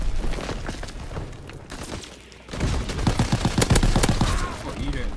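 AVS-36 rifle fire in the Call of Duty WW2 video game comes as dense, rapid bursts of loud shots that thin out briefly before building again into heavy, overlapping gunfire.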